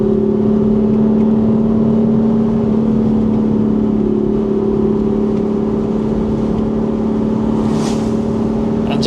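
2018 BMW M4 engine with DCT gearbox pulling steadily on a winding road, a loud continuous drone from inside the cabin holding a steady pitch throughout.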